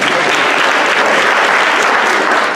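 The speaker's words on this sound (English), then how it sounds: "I get a hand of applause if y'all cool with that" Loud, dense applause from an audience of middle and high school students fills the room steadily from start to finish, close and continuous with no talking over it.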